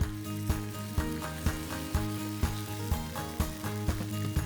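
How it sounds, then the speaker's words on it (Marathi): Mustard seeds, curry leaves and green chilies crackle and sizzle in hot oil for a tempering. The steady frying hiss plays over a regular rhythmic background beat, and no one speaks. "मोहरी टाकलेली आहे मी, त्याच्यात थोडे कढीपत्त्याचे पानं टाकलेले आहे, 2 आपल्या मिरच्या टाकलेल्या आहे,"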